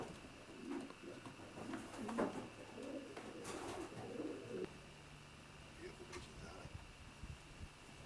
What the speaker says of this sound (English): This is a class pigeon, Alwyn.